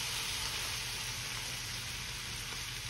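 Beef calf liver frying in a skillet, a dense, steady sizzle that stays constant and close without pauses or voices.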